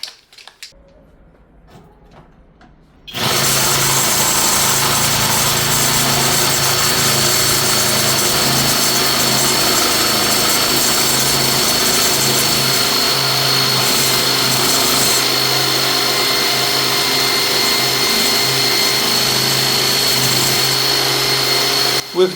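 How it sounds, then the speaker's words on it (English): After a few quiet seconds, a drill with a jigsaw attachment starts and runs continuously with a buzzing, rasping cut through wood, loud and close. "We've just explored the Parkside Jigsaw attachment set for drill"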